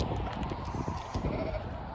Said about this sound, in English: Sheep. Sheep. I love this.